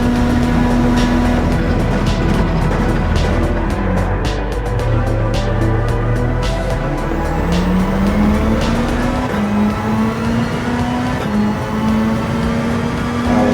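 Race cars roar through a Gran Turismo 7 race in VR, engines droning loud and steady with rising and falling pitch as they shift and jostle nearby, occasional tire squeal over the continuous whine.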